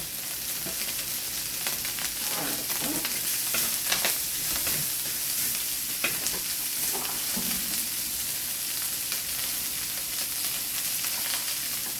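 Meat with garlic and onion sautéing in a pan for pancit bihon canton, a dense continuous sizzle up close with intermittent spatula scrapes and stirring, no talking.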